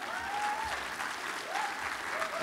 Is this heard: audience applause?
yes